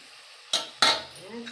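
Dal puri frying in oil gives a faint sizzle broken by two sharp bursts of clattering, like a utensil striking the pan, followed by softer crackling.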